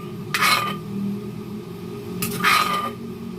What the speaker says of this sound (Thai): ต่อไป เป็นขั้นตอนการ คั่วหมูให้สุกก่อนนะครับ